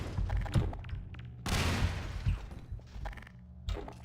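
A grenade blasts inside a dumpster in Half-Life 2: Episode Two, a sudden loud boom with a rushing burst partway through, set among thumps and clanks before and after.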